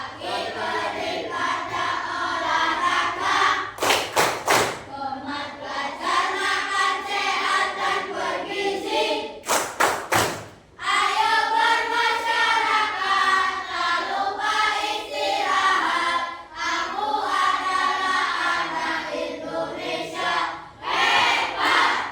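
Schoolchildren in a classroom chanting the 'tepuk anak hebat' routine together, loud sing-song voices punctuated by bursts of sharp group clapping, repeated over several rounds.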